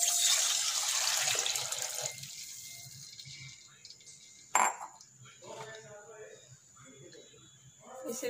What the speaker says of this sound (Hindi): ये थोड़ा गर्म होते ही अब पानी डालेंगे।